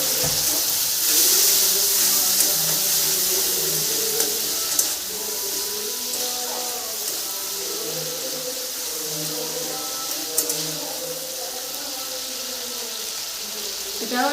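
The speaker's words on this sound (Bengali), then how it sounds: "অল্প একটু জল দিব" Water is poured into a cooking pot of chana dal in a steady hissing stream, moderately loud and continuous, with faint talk beneath.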